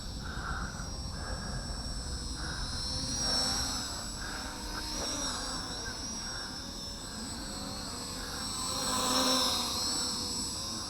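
A Syma X14 quadcopter drone with altitude hold hovers and flies, giving a steady, high electric whine with a breathy rotor hiss that swells slightly around the middle and near the end.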